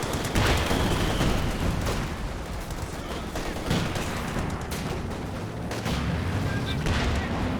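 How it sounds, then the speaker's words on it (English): Artillery barrage in Company of Heroes 2, a 4v4 match on Lienne Forest: a dense, continuous wash of distant booms and crackling gunfire with several sharper impacts standing out, under an indistinct voice. "A few more might land now that's been flattened, but kind of on the tail end of the barrage anyway."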